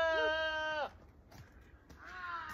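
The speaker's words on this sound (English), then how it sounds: "Come on, little goat. Come on, baby." A goat on a farm gives a loud, close bleat with a wavering harmonic voice for almost a second, then quieter rustling, then a second bleat begins near the end.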